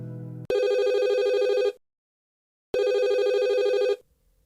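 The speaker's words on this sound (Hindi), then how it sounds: "वह फोन रखकर पलटी कि फोन फिर बजा।" Two long bursts of a telephone's electronic ring, loud and close, separated by a gap of silence, with no talk over them.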